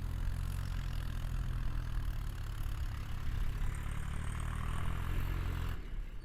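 A Massey tractor engine drones steadily at close range as it turns on a track through a millet field, a continuous low rumble with clattery texture that drops off sharply near the end.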